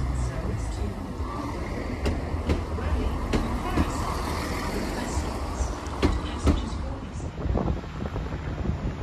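A Transport for Wales passenger train to Carmarthen rumbles into Shrewsbury station, its low roar mixed with wind buffeting the microphone and occasional metallic clanks.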